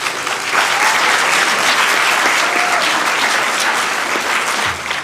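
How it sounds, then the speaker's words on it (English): A big round of applause at a city council meeting, dense and loud crowd clapping sustained for several seconds, with a faint voice or two beneath. "let's give them another big round of applause"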